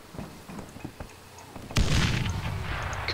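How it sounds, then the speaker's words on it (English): In the video game Dead Island Riptide, a sudden loud grenade blast bursts out after a quieter stretch of small clicks and thuds, followed by a rumbling, crackling tail. "This can be sorted out with a very quick explosion."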